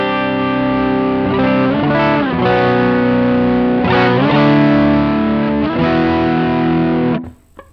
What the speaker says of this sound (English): you'll hear more of the overdrive coming in.